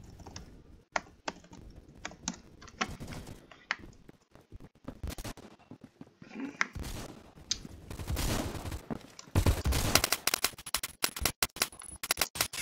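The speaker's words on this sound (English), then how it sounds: "I don't know what I'm shooting. I'm just shooting." Gunfire in the video game Phantom Forces comes as sharp, irregular shots and short bursts, some loud and close, mixed with clicky keyboard-like tapping and brief quiet gaps.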